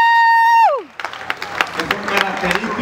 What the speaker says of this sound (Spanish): Vamos a dar un fuerte aplauso a estos cuatro ejemplares.